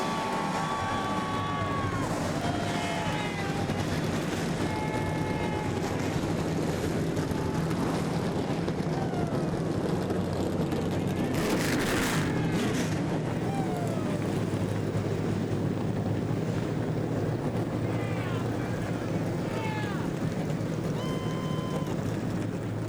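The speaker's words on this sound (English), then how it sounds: "And the engines have fired, and that means the fans are fired up for 150 laps, 75 miles from Eldora Speedway." Many NASCAR Truck Series engines roaring at Eldora Speedway dirt track, a dense continuous rumble with revving pitch sweeps, crowd noise and wind, no voices clear.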